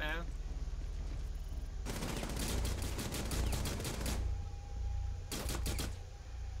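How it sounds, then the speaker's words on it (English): Rapid pistol gunshots ring out in Rainbow Six Siege on the Hereford Base map, a dense burst of sharp cracks for about two seconds, then a shorter flurry near the end over steady game ambience. "Beautiful pistol shot"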